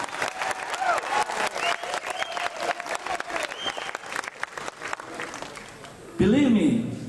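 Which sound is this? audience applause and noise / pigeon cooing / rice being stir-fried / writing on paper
audience applause and noise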